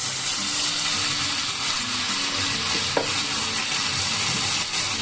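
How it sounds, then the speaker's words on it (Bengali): Tomato and onion frying over a medium flame, a dense loud crackling sizzle with stirring scrapes and one sharp clink near the middle. "এক মিনিট মতো মিডিয়াম ফ্লেমে এই টমেটো আর পেঁয়াজ এগুলোকে একটু ভেজে নেব।"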